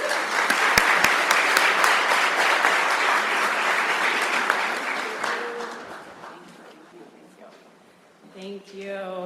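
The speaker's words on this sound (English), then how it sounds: "Everyone, please give her a round of applause" Applause from the audience at a nature-based solutions summit hall, a dense burst of clapping that fades over several seconds before a voice begins speaking near the end.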